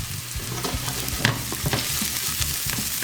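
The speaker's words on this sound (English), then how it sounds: "We'll add our garlic, 3 cloves of garlic to that." Three cloves of garlic sizzling in a pan with ginger and translucent shallot, a steady loud frying hiss with scraping stirs and clacks of a utensil against the pan repeating at an irregular pace.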